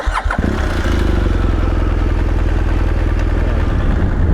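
A BMW R 1200 GS Adventure's boxer engine rumbles close and loud after a brief clatter at the start, a steady throbbing pulse as the bike runs.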